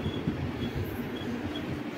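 Guruvayur Intercity Express 16342 rumbling steadily close by, a continuous low rail roar with faint high squeal, no speech over it.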